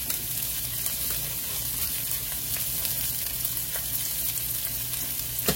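Onions and peppers sauté in a pan beside cooking rice, giving a steady, close, even sizzle that hisses on without a break and without talk.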